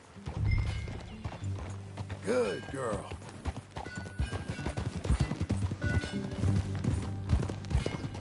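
Horse hooves clip-clopping at a ride in the video game Red Dead Redemption 2, a steady rhythmic beat running under close game dialogue with a brief whinny and background game sounds.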